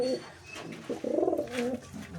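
Pigeons kept in a home loft give a few soft, low cooing calls up close, in short warbling phrases over quiet background noise.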